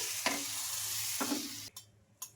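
Wheat flour and curd dosa batter spreads across a hot pan with a soft steady sizzle, two scraping sweeps of the ladle, then a few sharp clanks as the hiss fades.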